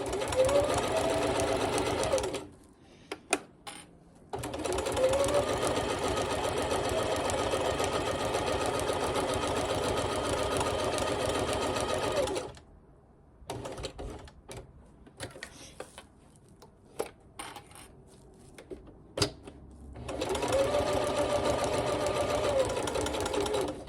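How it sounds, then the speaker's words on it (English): A sewing machine stitches a fabric potholder in long, steady whirring runs, broken by quiet pauses filled with faint handling clicks and rustles before stitching starts again. "Keep sewing."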